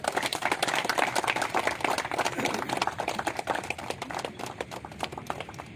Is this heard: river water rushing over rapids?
no